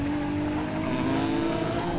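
A police car drives off with a steady engine hum that rises slightly as it accelerates, close and continuous, with no voices over it.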